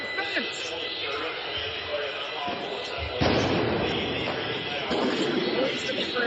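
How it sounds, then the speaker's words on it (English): Flashbangs and police munitions go off at a night protest, a sharp loud blast cutting through crowd noise and a clamorous background, with people talking throughout. "Lots of flashbangs. Lots of munitions."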